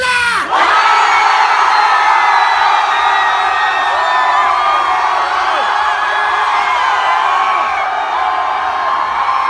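University crowd at a campus concert in a packed hall, screaming and cheering loudly and continuously, a dense roar of many voices that swells at the start and holds at full volume throughout.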